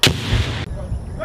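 A fragmentation grenade thrown by Marines bursts with one loud, sharp blast, followed by a brief rumbling decay and sudden cutoff, close and dominant.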